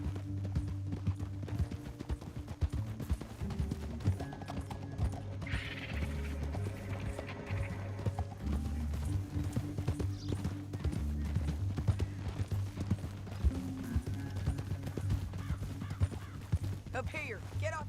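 Steady clip-clop of horse hooves trotting throughout in Red Dead Redemption 2, mixed with game music and ambient noise, with brief mechanical clicks and a faint whinny.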